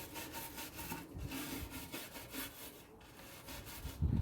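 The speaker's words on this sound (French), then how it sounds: "la petite brosse vous permet vraiment d'aller dans les rainures" A small brush scrubs the grooves of plywood furniture, a steady close rubbing and scratching with rhythmic back-and-forth strokes, fairly soft, with a slightly louder knock at the end, no talking.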